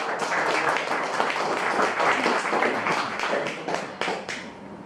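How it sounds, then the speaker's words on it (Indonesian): An audience claps at a business talk event in Indonesia, a dense run of hand claps lasting the whole stretch with some sharper individual claps standing out near the end. "Ya, tepuk tangan dulu dong buat mereka."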